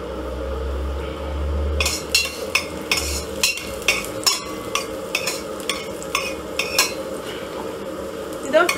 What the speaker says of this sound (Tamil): நம்ம இப்ப கொஞ்சம் கிஸ்மிஸ் ஆட் பண்ண போறோம்.